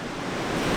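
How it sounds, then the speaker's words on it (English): Large waves crash steadily on a cold, windy Finnish shore, a dense and continuous roar of surf mixed with wind buffeting the microphone, growing slightly louder toward the end. "The waves are so big"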